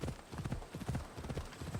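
Steady clip-clop of horse hooves trotting at a quick, even rhythm in the video game Assassin's Creed Odyssey, fairly close and moderately loud, with no voices.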